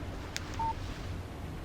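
A short electronic beep from a phone text-message alert in the video game Alan Wake, played on Xbox Series S. One brief tone stands out over quiet background hum.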